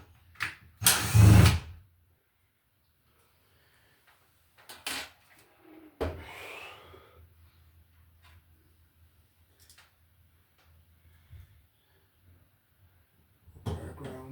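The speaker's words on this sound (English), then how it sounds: "I'll drill a hole to put our ground screw into the wood here" A short burst of power-drill whine near the start as a hole is drilled into wood, then a few brief tool noises and knocks with long quiet gaps between.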